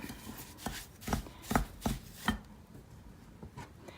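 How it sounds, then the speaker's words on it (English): A wooden spoon chops into a bowl of snow ice cream, giving a series of close, dull thuds about every half second that fade to softer taps near the end. "you'll kind of have to start chopping with your wooden spoon a little bit"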